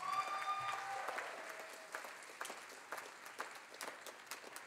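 Applause from a concert audience honoring conference and event staff at a fall jazz concert, a dense wash of clapping that gradually thins into scattered claps with faint crowd murmur.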